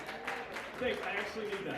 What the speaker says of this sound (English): So I'd like a big round of applause for myself.